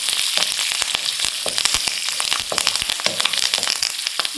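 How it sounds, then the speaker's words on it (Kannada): Green chillies and curry leaves fry in hot oil for jeera rice, crackling with dense, sharp pops and spits over a steady sizzle, close and loud, with no talk. "ಎಲ್ಲ ಹಾಕ್ಕೊಂಡು ಚೆನ್ನಾಗಿ ಫ್ರೈ ಮಾಡಬೇಕು."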